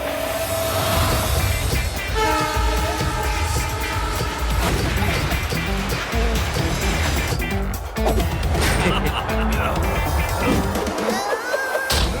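Cartoon train rushing at full speed toward a tunnel, a dense steady roll of wheels and rail noise with horn-like tones and clatter, loud and continuous throughout.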